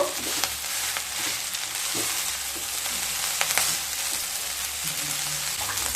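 Vegetarian vegetable chowmein stir-fried and mixed in a hot pan, giving a loud, continuous sizzle with intermittent scraping and clinks from the stirring.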